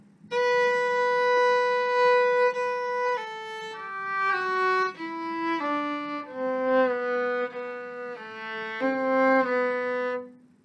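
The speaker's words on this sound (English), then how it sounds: "Let me play 22 and 23 and 24 for you so you can hear what they sound like." Solo violin plays measures 22–24 of Bériot's Air Varié as a lesson demonstration, a clear bowed melody of stepped sustained notes rising and falling, close and steady for about ten seconds with no talking.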